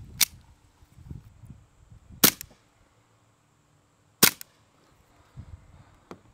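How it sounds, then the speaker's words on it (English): A Beretta M9A3 .177 CO2 BB pistol fires three sharp, close pops spaced about two seconds apart, followed by a fainter click, with soft handling noises and rustling in between. "now we got the Beretta M9A3 177 CO2 pistol. My favorite one. Take a couple shots with that."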